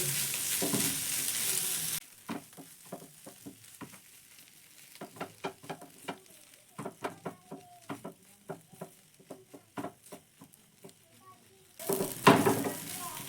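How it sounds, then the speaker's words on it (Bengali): Spiced vegetarian stuffing is stirred and fried in a pan: an opening burst of loud sizzling, then a long run of rhythmic spoon scrapes and clatters against the pan over a low sizzle, before loud sizzling swells again at the end. "দিয়ে ভালো করে সব মশলা মিশিয়ে নিতে হবে"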